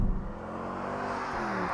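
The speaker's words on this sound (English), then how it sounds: "Now we can actually finally feel how free revving this engine" A manual-swapped Mercedes C63 AMG engine revs freely, its steady, loud mechanical drone running close and unbroken with no voices over it.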